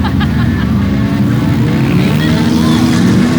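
Loud, continuous engine roar from a battered demolition derby car that keeps running, with rising pitch sweeps suggesting revving, close and dominant throughout.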